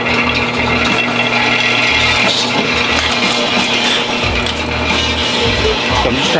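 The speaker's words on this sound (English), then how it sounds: "So I'm just trying to remove enough of the rivet that I can punch it through and not damage the armor." A panhead rivet on metal armor is filed down with a continuous raspy scraping and rattling, loud and close, with a steady low hum underneath.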